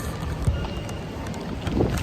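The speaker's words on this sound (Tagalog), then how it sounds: "Mahangin lang dito sa Tagaytay." Wind blows steadily across the microphone outdoors in Tagaytay, a continuous broadband rush with a couple of low gusty thumps.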